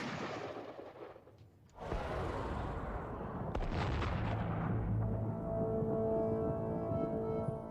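A percussion-cap musket from the Gettysburg 1863 era is fired, giving a sharp close report followed by a booming, rolling roar that sustains and slowly decays over several seconds, with no talking.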